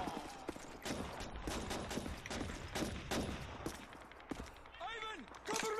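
Scattered gunfire from a World War II battle in Call of Duty 2, with sharp shots and short bursts popping at varying distances while people talk over the fighting.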